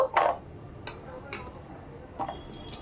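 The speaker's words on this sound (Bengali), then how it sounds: "এবার আমি টমেটোগুলোকে চপ করে নেব" Sharp, isolated knife strikes as a cook chops tomatoes on a board, a few separate cuts spaced across a quiet kitchen moment, fairly close and clear with no talking.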